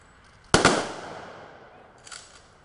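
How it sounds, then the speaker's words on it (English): A volley of rifle fire from a 21-gun salute at a military gravesite funeral, one loud crack with a long echoing tail outdoors, then a fainter distant report. "At the gravesite service, a 21-gun salute."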